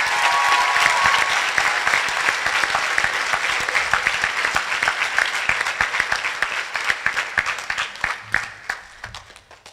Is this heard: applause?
yes